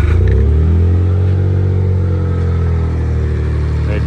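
A Perodua Kancil engine fitted with a MaxxECU idles loud and close with a deep, throbbing exhaust, its revs rising and falling in a slow blip before settling back to a steady rumble.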